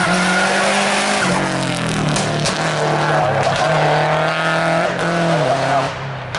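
A Subaru Impreza race car skids at an asphalt sprint event, a loud sustained engine roar with squealing tires sliding through a corner, shifting pitch as it passes close by.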